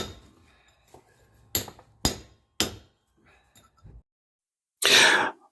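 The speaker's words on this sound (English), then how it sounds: "This is the raking chisel" A raking chisel struck against sandstone to shave a fine layer off the surface gives sharp, separate knocks with short gaps between them, close and fairly loud. A brief, harsh scraping burst follows near the end.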